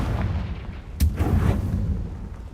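A Confringo blasting spell in Hogwarts Legacy goes off as one sharp burst followed by a rumbling boom over steady background ambience.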